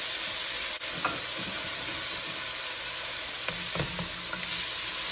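Onions frying in a smoking-hot pan, a steady broadband sizzle with occasional stirring clatters and scrapes throughout, fairly close and without talk.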